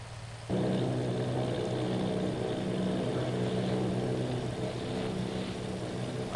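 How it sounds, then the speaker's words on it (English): Army bomber plane engines in the War of the Worlds radio drama, a loud, steady propeller drone that starts abruptly and holds without pause, with no one speaking. "Army bombing plane"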